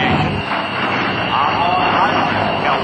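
A Republic P-47 Thunderbolt's round radial engine rumbles and roars at an air show, a loud, steady, broad engine drone that holds throughout while an announcer talks over it.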